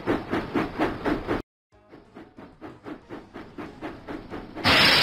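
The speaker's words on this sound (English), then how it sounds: "James puffed proudly into the fair." James the steam engine from a Thomas & Friends video game puffs in a brisk regular chuff rhythm, breaks off briefly, then resumes its steady puffing before a loud burst of hissing steam.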